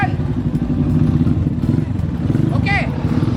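A gang of motorcycles rumbles off together, a dense, steady low engine drone with slight throttle pulses, close and loud, with a brief voice-like chirp near the end.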